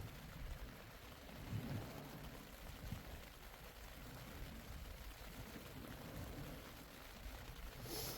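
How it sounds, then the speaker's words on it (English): Rain falls at a beach as a faint, steady hiss with soft patter throughout, with no voices. "Has literally just started raining"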